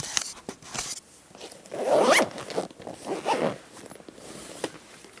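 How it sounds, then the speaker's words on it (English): A zipper on a travel makeup bag is pulled closed in a couple of quick, close rasping strokes, with soft rustling of the bag around it. "So we're going to just zip this up"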